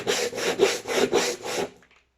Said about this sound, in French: là, en ponçant, bah, ça me permet de faire ressortir la peinture blanche qui était en dessous